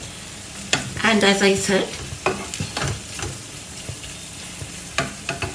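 Potatoes frying with coriander in a pan are stirred, giving scraping and clattering over a continuous sizzle, while a person speaks briefly partway through.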